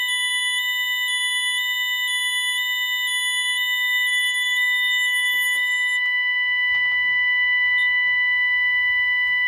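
A loud, steady electronic alarm tone sounds continuously from an Ademco 6150 alarm panel, a high pulsing beep layered over a constant pitch, with faint handling noises near the end.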